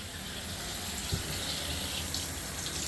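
Water runs steadily from a faucet in a house, a close, even hiss of flowing water with no break.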